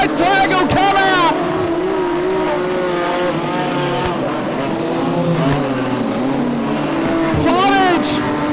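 Modified sedan race cars roar past on the Lismore Showgrounds circuit, engines rising and falling as they chase each other closely, loud and near under continuous excited race commentary.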